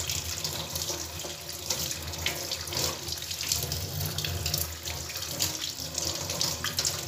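Tap water running steadily into a sink while aroeira tree bark is rinsed after sanitizing, a continuous close splashing rush with no talk.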